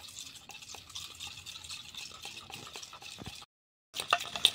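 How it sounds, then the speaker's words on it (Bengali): A finger stirs Vaseline cream, making a soft, wet, squishy smearing sound. The mixing runs continuously and close, then stops briefly and resumes, with no talking. "এটা আমি এরপর ভালো করে মিশিয়ে নেব।"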